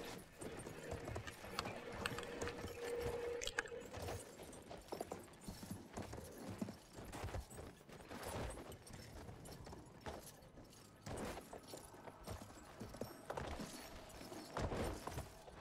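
Horse hooves in the video game Battlefield 1 beat a steady, quick clip-clop while riding, continuous and moderately close throughout, with faint background game noise.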